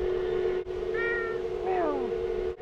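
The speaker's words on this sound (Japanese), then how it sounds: "お、猫ちゃん、猫ちゃん。" A cat meows twice at a Hokkaido dairy farm, a short rising call followed by a longer falling one, close and clear over a steady background hum.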